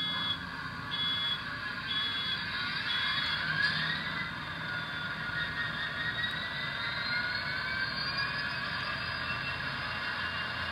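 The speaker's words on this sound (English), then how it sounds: "And now the 12-cylinder EMD 710 kicks up and fires off." SoundTraxx Tsunami 2 sound decoder in an Athearn Amtrak F59PHI model locomotive plays a 12-cylinder EMD 710 diesel starting up, a steady synthesized engine drone with high whining tones and rising pitch sweeps, continuous and close.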